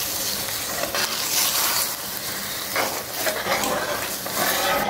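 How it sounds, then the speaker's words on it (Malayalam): Spoon stirring sugar as it melts and caramelizes in a pan for spiced mulled wine, giving soft sizzling and bubbling with scraping strokes that rise and fall in waves, and no voices. "നമുക്ക് ഈ സ്പൂൺ വെച്ചൊന്ന് ഇളക്കി കൊടുക്കാം."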